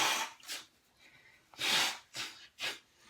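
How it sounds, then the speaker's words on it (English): Someone clears their nose after a neti pot saline rinse. Several short, forceful breathy blasts come close to the mic, with one long strong blow in the middle and quieter snorts around it. "and then blow your nose."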